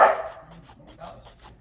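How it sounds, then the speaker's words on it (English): A single dog bark at the start, fairly close, then quieter room sound. "Oh, that's my dog, sorry about that."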